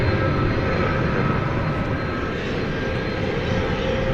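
An Airbus A300 jet airliner at DFW Airport at night, a loud, continuous engine roar with a dense low rumble and steady hiss, unbroken and without voices.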